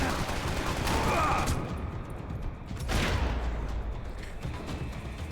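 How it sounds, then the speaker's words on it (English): Loud gunfire and explosive blasts fill a chaotic firefight, with a grenade going off amid sustained shooting in the Max Payne 3 video game on PC; a heavy low boom swells near the three-second mark before the bursts continue. "It's a grenade."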